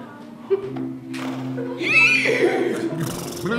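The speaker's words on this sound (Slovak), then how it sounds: "Druhým zvieratkom bol koník." A horse whinny from a fairy-tale stage play performed at Bojnice Castle in 2015, a loud, wavering neigh that rises and falls over a low stage hum, with scattered thumps around it.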